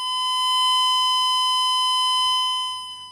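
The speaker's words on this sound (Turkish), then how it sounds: "şunu yukarı doğru tetiği kaldırdığımda dedektörümüz sürekli sinyal gönderiyor" A C.Scope MX3 analog metal detector gives a steady electronic pinpoint tone that swells in loudness, holds, then tapers off near the end, alone without speech.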